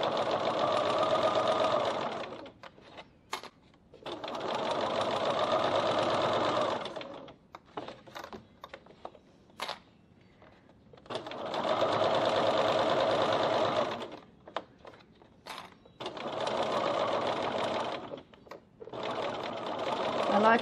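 Sewing machine stitching a cork strap loop on a bowler bag, running in four steady whirring bursts of two to three seconds with short clicks and handling between them.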